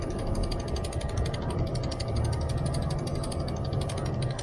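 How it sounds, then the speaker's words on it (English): A Bafang BBS02 mid-drive e-bike motor runs in walk mode, turning the rear wheel with a loud, steady whir and a rapid ratcheting, gear-like clicking that holds unbroken throughout. "Because the motor is now turned on via the walk mode."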